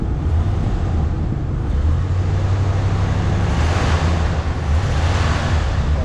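A 1976 Lincoln Continental Mark IV Cartier Edition engine idles with a deep steady rumble, then revs up briefly a couple of times, loud and close, with some wind-like noise.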